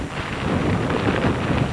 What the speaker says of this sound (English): Just very, very heavy rain.